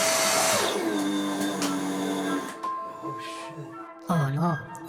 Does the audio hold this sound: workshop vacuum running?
yes